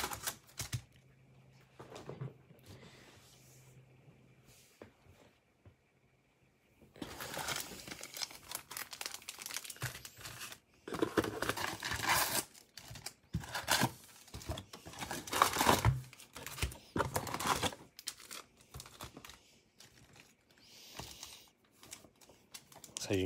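Foil packs of 2020 Topps Series 1 baseball cards are torn open and crinkled, giving bursts of rustling, ripping and card shuffling that start quietly and grow louder and busier, with occasional talk.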